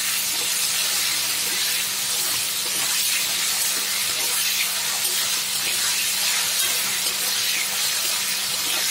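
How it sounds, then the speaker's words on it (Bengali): Potatoes fry in a pan in a home kitchen, giving a steady loud hiss and sizzle that holds evenly throughout with no pauses and no talk. "আলুটা একটু ভেজে নিই"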